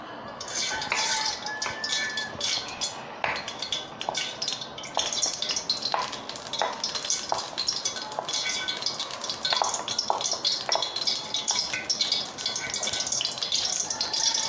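Vegetable oil going into a cooking pot for Nigerian concoction rice, with steady sizzling and frying crackle throughout, broken by scattered clinks and scrapes of a utensil against the pot.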